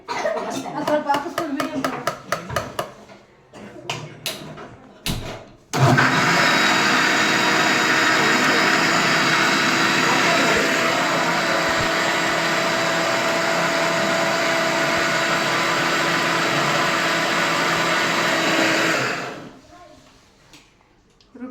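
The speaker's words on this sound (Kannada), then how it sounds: "ಚೆನ್ನಾಗಿ ರುಬ್ಕೊಬಿಡೋಣ ರುಬ್ಬಿದೀನಿ ನೋಡಿ" Kitchen mixer grinder blending tomato chutney, a loud steady motor whir running for about thirteen seconds before winding down, preceded by clatter and short bursts as the jar is set up.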